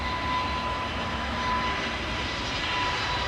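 An airliner departs London Heathrow Airport, its engine roar a steady, broad rumble held at a fairly constant level throughout, with no talk over it.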